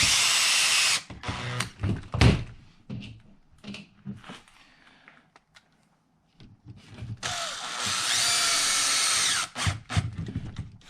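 Power drill driving screws into the link ends of an Axial Ryft RC monster truck, two close whirring runs, one short near the start and a longer one near the end, with quiet handling noises between.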